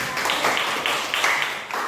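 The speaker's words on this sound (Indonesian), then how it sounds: "jadi kita kasih tepuk tangan untuk kelompok" Students in a classroom applaud a group that has just presented, giving a short burst of clapping that comes in uneven waves at moderate volume.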